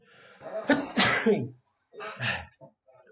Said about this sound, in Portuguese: Acho que eu vou espirrar